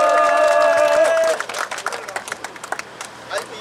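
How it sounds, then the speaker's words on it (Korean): At a labour union memorial rally outside Songnae Station, a sustained musical tone cuts off and gives way to scattered crowd clapping and cheers welcoming a speaker, loose and uneven, with some crowd murmur underneath. "박수로 맞아주시기 바랍니다."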